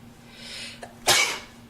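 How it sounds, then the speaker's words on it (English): A single sharp sneeze bursts out after a quick intake of breath, close and fairly loud in a quiet room. "I'm gonna sneeze"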